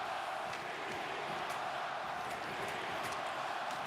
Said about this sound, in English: The Oiler fans still cheering